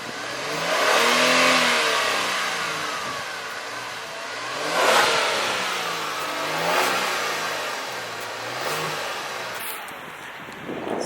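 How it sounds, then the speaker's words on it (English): A Kia Stinger GTS starts up and is revved a few times in separate rising and falling pulls, its engine note fairly subdued and heard from close by with no talk. "we'll give the car a start up and some revs anyway"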